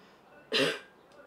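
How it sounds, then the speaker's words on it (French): One short, close cough rings out against a quiet background, followed by faint stillness. "Tousse un peu?"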